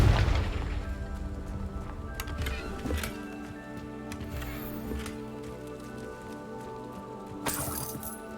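Confringo fire spells blasting in a wizarding video game: two short booming bursts, one near the start of the middle stretch and another toward the end, over a steady bed of game music and ambience.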